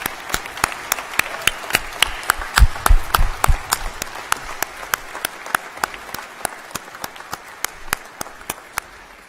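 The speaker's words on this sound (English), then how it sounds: "Let's have a round of applause for our graduates" Sustained applause and scattered clapping from a large audience fill a university convocation ceremony hall, a steady wash of hands with a few louder individual claps standing out.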